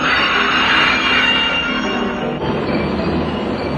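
A 1904-era subway train rumbles loudly past, with squealing wheels and a metallic grinding roar that holds steady throughout.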